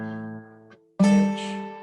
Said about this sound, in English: you pinch the first 2 notes like normally. Then you play one with your right hand on just the treble note